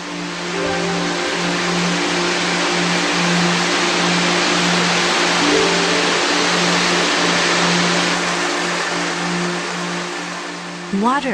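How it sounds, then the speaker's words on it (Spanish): A steady, loud roar of rushing water from Shiraito Falls, a waterfall, pours continuously, a broad constant wash with a low hum beneath it. "El agua baja a borbotones incesantemente desde el precipicio."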